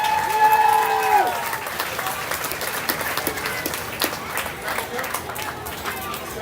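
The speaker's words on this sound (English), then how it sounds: "Give her a round of applause." A county fair crowd applauds after a child's mutton bustin' ride in the arena, loud sustained clapping and cheering with chatter mixed in, a high whistle-like tone sliding briefly at the start.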